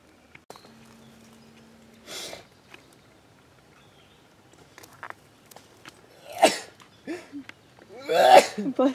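A person sneezes outdoors on a woodland hike: a few short, close bursts separated by quiet pauses, with faint rustling between them.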